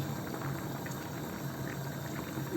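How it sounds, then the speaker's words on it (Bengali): A pot of Chinese-style beef biryani liquid at a full boil, bubbling steadily and evenly at close range with no voices. "এখন ভালোভাবে ফুটে গিয়েছে"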